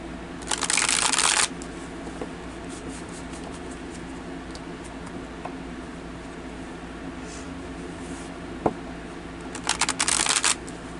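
Tarot cards riffle-shuffled in two bursts, a long crisp flutter near the start and another near the end, with quiet handling and faint soft taps between them.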